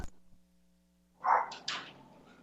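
A small dog gives two quick, sharp yaps in a row, fairly close, after a stretch of near silence with a low hum.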